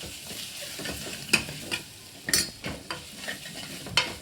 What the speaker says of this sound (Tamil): இப்போ இஞ்சி பூண்டு பேஸ்ட்டு வதங்கிடுச்சு.